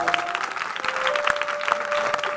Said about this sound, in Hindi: जोरदार ताली इस पुरस्कार के लिए।